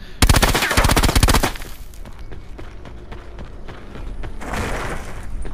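Video game gunfire: a loud, fast burst of automatic shots about a second long, followed by quieter scattered shots, shuffling and faint ambient noise.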